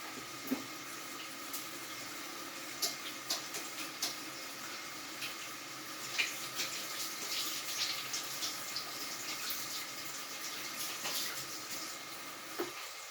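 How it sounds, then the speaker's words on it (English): Tap water runs steadily into a sink during handwashing, a continuous even hiss of flowing water with a few small splashes and clinks, close by and moderately quiet, with no talking. "Now, of course, because I've just wiped my nose, I have to wash my hands."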